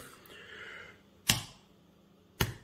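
Two sharp, separate cracks of a hard-boiled egg shell struck on a kitchen counter, close and crisp, following a brief soft rustle, with quiet gaps between.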